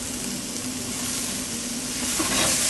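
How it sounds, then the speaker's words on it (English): Vegetables sear in olive oil in a hot pan for a shrimp and fusilli pasta, giving a steady close sizzle that holds even throughout and swells slightly louder near the end, with no talking. "These guys, we're just going to get a quick sear."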